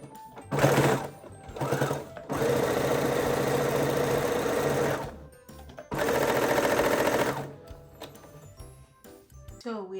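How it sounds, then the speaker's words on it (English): A sewing machine hems the top edge of fabric in loud, steady runs of rapid stitching, one short burst followed by two longer stretches, with brief pauses and soft handling clicks between. "So we're done hemming the top"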